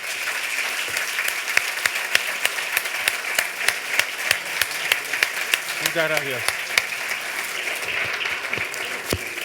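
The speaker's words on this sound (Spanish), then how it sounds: "un aplauso muy fuerte" Audience applause at a talk on Milei's economic thinking, a dense sustained clapping that fills the room throughout, with a short spoken thank-you heard near the end over the clapping.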